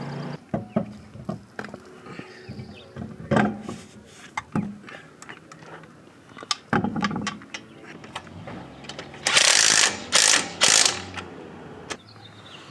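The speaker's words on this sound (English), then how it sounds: "we're snugging up the top bolts" Ratchet tightening the top shock bolts on a C6 Corvette, with bursts of quick clicking pawl sounds between metallic clanks and handling noises, close up, no talking.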